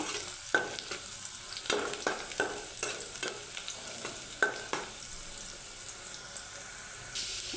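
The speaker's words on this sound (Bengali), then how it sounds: "দেখেন পেস্টটা কিন্তু আমার ভাজা হয়ে আসছে" Spice paste frying in a pan, a steady soft sizzle broken by repeated clinks and scrapes of stirring at an irregular rhythm, close and moderately loud.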